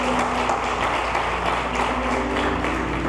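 A church congregation applauds in a steady, even patter of many hands, fairly close and continuous through the short stretch, with a low hum beneath.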